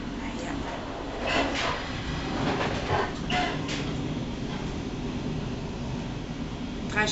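Train running on rails, a steady rumble with some rattling and clatter throughout, heard from inside and fairly close, with faint voices at moments.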